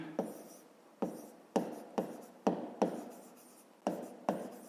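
Pen writing numbers by hand on paper while working a school math division problem, heard as a series of about eight short scratchy strokes with brief pauses between, close and fairly quiet, with no talking.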